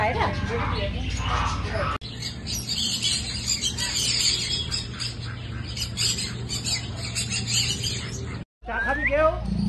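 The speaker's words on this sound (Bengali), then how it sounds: "এটা কি পাখি এত বড় মোটা মোটা পায়রা?" Large pigeons at a small zoo squawk and chirp in scattered bursts while people talk nearby.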